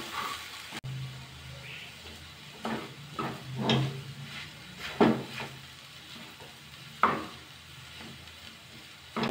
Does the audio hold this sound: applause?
no